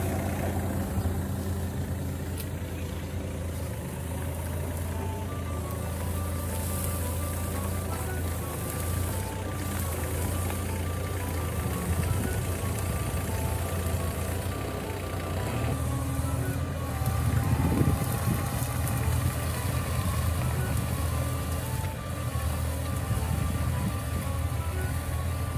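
The newly started, fairly quiet modern engine of an excavator on overgrown farmland runs with a steady idling rumble and hum. Broadband rattling noise swells partway through and the engine note shifts slightly.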